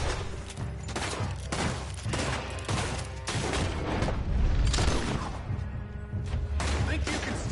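Gunfire rings out in Red Dead Redemption 2: repeated loud, sharp shots come in uneven bursts across a busy fight, with heavy booms and crashes among them and game voices shouting at times.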